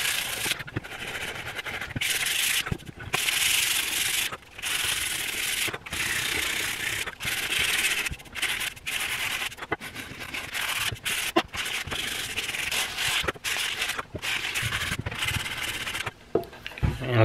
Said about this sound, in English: just sanding off this tape and try to get this finished down a little bit